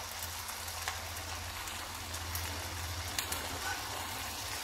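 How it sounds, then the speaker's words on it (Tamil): Prawns and curry leaves deep-frying in hot oil, a steady soft hiss and crackle with scattered small pops, fairly quiet and even throughout. "நம்ம லாஸ்ட் ரவுண்ட் அந்த இறால் பொரிக்கும் போது அதோட ஒரு இனி கருவேப்பிலை அப்படியே போட்டு பொரித்து எடுத்துருங்க"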